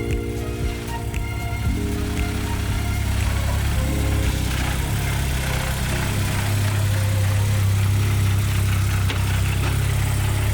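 A Japanese-market Peugeot 205 RC engine runs close by with a steady, loud mechanical drone and a low rumbling hum. A subtle shift in pitch comes early on, then it holds even throughout.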